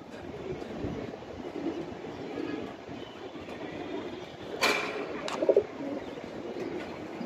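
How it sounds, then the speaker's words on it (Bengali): Young racing pigeons coo softly close by in a quiet loft, a few low murmuring calls and brief flutters over a faint steady hum. "এই আর এক পেয়ার কবুতর"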